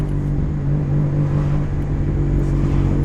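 Mitsubishi Lancer with a 4G15 turbo engine running: a loud, steady, low droning hum with an even whir, close by and unbroken, with no voices.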